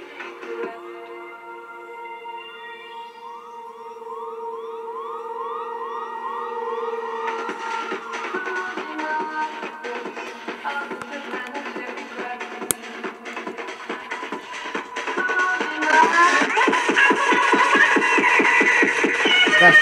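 A test tape plays through a Leevers Rich reel-to-reel tape recorder, giving steady tones and warbling sweeps that shift into louder, denser material partway through, heard alone at moderate level.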